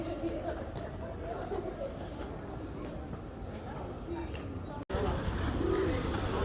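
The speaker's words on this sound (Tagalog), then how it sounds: "ang daming ibon." Pigeons cooing amid a crowd's murmur and chatter outdoors at the Western Wall in Jerusalem, with a brief dropout then a burst of fluttering wings.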